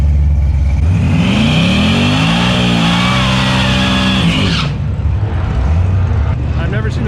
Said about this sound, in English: I've never seen this Camaro run before.